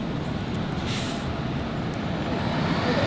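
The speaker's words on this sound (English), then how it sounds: "We got a big bus coming here. It's coming in." A big bus pulls in on a Washington DC street, its engine a steady broad rumble that builds slightly toward the end, with a brief hiss of air brakes early on, fairly close and with no talk.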